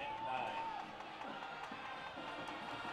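A crowd at a Friday night high school football game between Van Buren and Heritage roars and cheers from a distance. The noise is a broad, continuous wash, with a whistle near the start and chatter running under it.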